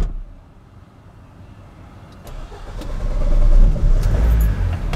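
A workhorse car with some wear and tear starts up, the engine cranking and catching after a couple of seconds, then settling into a steady rumbling idle close by.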